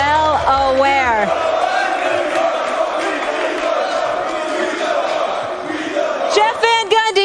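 A studio crowd cheers and whoops loudly and steadily, with voices rising over a continuous roar of the audience.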